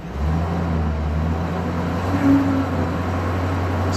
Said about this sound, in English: I'm going to brake torque this a little bit.